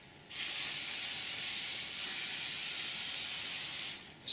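An aerosol can sprays onto a part during the refurbishment of a Kazuma Panda ATV, one long continuous close hiss lasting about four seconds, then cut off, followed by the start of a second short burst.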